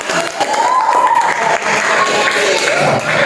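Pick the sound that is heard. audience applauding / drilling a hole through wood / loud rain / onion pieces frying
audience applauding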